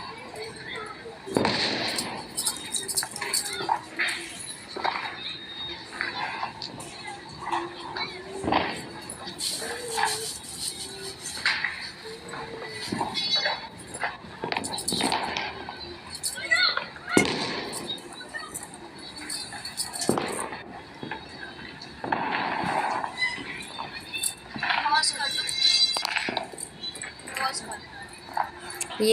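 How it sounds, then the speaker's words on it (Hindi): Firecrackers bursting during a Karwa Chauth night celebration: repeated sharp cracks and bangs at irregular intervals, some close and loud and others distant, with people talking throughout. "आपको भी पटाखों की आवाज़ सुनाई दे रही होगी।"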